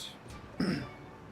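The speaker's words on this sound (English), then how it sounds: "Stop clearing your throat into the microphone." Someone clears their throat close into a microphone, a single short rasping burst amid quiet background noise.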